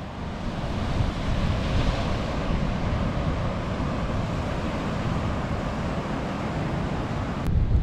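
Surf breaking on the beach at Praia do Sol in Guarapari, a continuous dense wash of waves with some wind rumble on the microphone and no voices.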